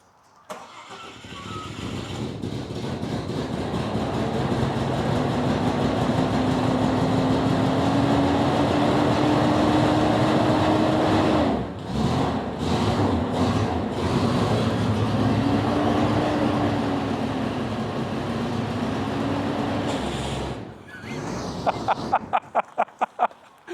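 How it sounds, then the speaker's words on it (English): An old barn-find engine runs loud and rough for about twenty seconds, with an uneven misfiring roar that dips briefly midway, then stumbles and stalls into sputters near the end. "misfiring like crazy now"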